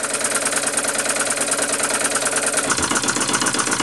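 Bing toy live steam engine running on compressed air, its flywheel slightly off balance, giving a continuous close mechanical whir and rapid chuffing rattle that shifts in tone partway through, with no voices.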